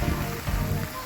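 Rain falls on the stone trail up Visapur Fort near Lonavla, a brief, soft, steady patter of drops.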